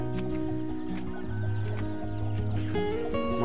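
Jungle fowl crowing in a rural Vietnamese setting, drawn-out harmonic calls rising and falling over steady clucking and background chatter of birds, moderately close and continuous.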